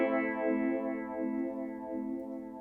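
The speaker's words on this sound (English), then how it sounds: "A little bit of warble in the pitch, but it's mostly the EQ going from a dark sound to a brighter sound." Electric guitar through a modulation effect whose EQ sweeps from dark to bright, a sustained chord swelling and receding in slow regular waves with a slight pitch warble.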